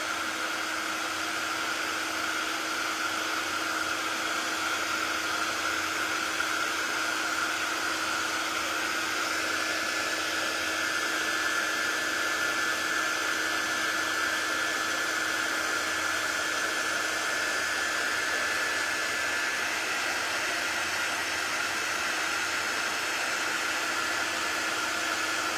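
A hair dryer blows steadily and close by for the whole stretch, drying a coat of crackle paint. The whirring noise is constant and even, with no talking.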